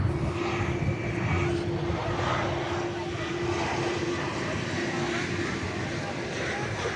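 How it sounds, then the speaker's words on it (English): A Boeing Dreamliner airliner departs DFW Airport for Istanbul, its engines roaring as a broad, steady rumble with a sustained low hum that holds throughout at a moderate distance. "So off to Istanbul goes this Dreamliner."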